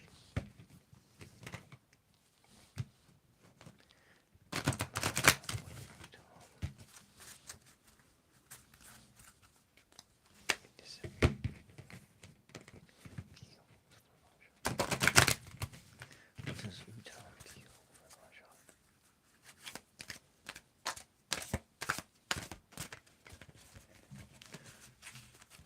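A deck of tarot cards being shuffled during a reading, heard as soft riffling bursts and quick papery clicks, two stronger bursts and then a run of rapid taps near the end, all close and fairly quiet.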